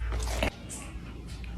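A single crunchy bite into food lands close and loud at the start, followed by quieter chewing and faint mouth noises.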